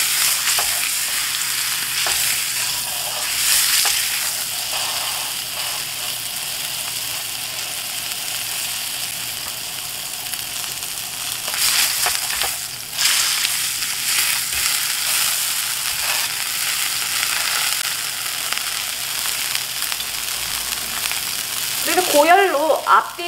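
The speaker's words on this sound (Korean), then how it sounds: "그 다음에 고기가 두꺼울 때는 옆면도 이렇게 구워 주도록 합니다." Thick sirloin steak sears in a hot pan with a continuous crackling sizzle, with occasional louder spits and a brief scrape of the meat being moved near the end, heard up close with no talking.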